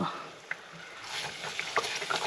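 Sugar and brown butter sizzle softly in a pan while being stirred, with a steady faint crackle and small scraping taps.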